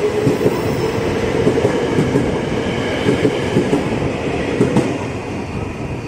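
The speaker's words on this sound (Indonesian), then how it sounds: "itu dia Tokyo Metro 6008 kereta tujuan Bogor livery Le Minerale berangkat dari jalur 12 stasiun Manggarai" Tokyo Metro 6000 series commuter train bound for Bogor departs platform 12 at Manggarai station, a loud, close, continuous rumble of wheels and motors with faint rail clatter throughout.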